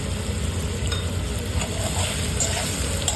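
Potatoes fry in salted oil with a little turmeric, a steady close sizzle with soft crackling throughout and no speech.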